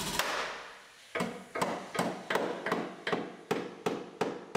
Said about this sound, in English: So with a little tension on there, we're going to hammer out the inside panel.